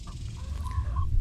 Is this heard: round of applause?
no